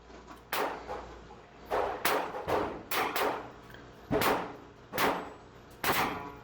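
A Ruger Redhawk revolver fires .45 ACP rounds in single action, with roughly seven sharp, loud reports at irregular intervals, each followed by a short ringing decay.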